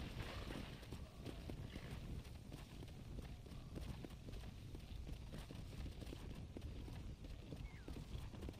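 A war horse gallops in Red Dead Redemption: Undead Nightmare, its hooves beating a fast, continuous clip-clop under a constant wash of wind, fairly faint and with no talk.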